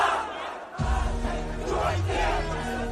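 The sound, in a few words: concert crowd cheering at a concert tour show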